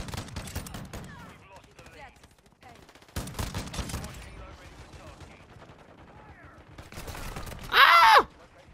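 Shotgun blasts in Call of Duty: Modern Warfare II, fired from an MX Guardian, come in a few separate loud bursts with quieter game noise between them and a sharp electronic chirp near the end.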